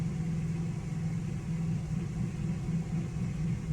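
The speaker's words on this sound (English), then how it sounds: "you can hear the generator. Still sounds like it's idling with the fan on" A generator running steadily at idle with its fan on, a continuous low rumbling drone with no change in pitch and no voices.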